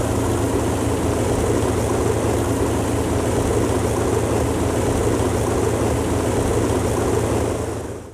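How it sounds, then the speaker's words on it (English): A Lancaster bomber's heavy piston engine starts and runs steadily with a deep, throbbing low rumble and broad roar, fairly close, continuous throughout before easing off at the end. "the incredible sound of the Lancaster engine startup is very rare"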